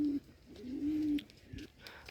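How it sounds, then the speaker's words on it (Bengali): A Bombay pigeon coos from a perch in a loft of Rajshahi Giribaz pigeons, a low, near, repeated hooting phrase of several drawn-out notes over about a second and a half, with faint background noise. "এই যে দেখুন কবুতরটা উপরে এসে বসে আছে"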